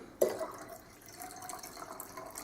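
Filtered water poured into a jar for homemade water kefir, a brief splash at the start followed by a faint, steady trickle and fill sound.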